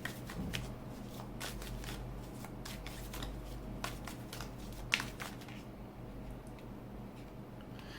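Tarot cards are shuffled and drawn in a run of close, papery riffles and slaps, with one sharper snap near the middle before things settle into quieter handling.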